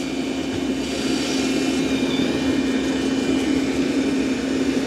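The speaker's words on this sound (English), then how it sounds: "it is vacuuming and mopping at the same time right now" A robot vacuum runs while vacuuming and mopping at once, giving a steady, close motor whine and airy suction hum with no pauses.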